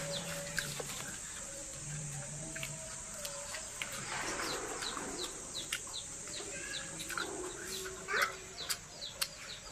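Chickens cluck and chirp in short, scattered calls at a moderate distance, with a steady wind and outdoor background underneath and a louder burst near the end.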